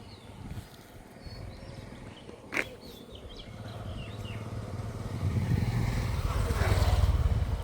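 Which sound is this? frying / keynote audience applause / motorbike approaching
motorbike approaching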